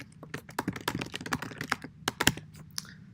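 Close keystrokes on a computer keyboard as C++ code is typed, an irregular run of sharp clicks and taps over a few seconds.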